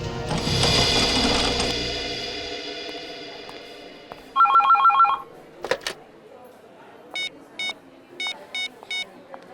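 A telephone rings in a hospital setting, several short electronic ring bursts repeating at intervals after a louder mechanical whirring, moderately loud and clear with no voices over them.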